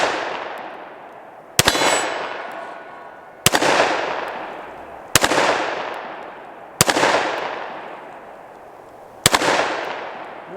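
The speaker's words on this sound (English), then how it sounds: "let's see if we can hit our hostage popper" A Smith & Wesson M&P 2.0 10mm pistol fires at a steel hostage popper target outdoors. Five loud, evenly spaced shots each end in a sharp metallic clang and a long ringing decay.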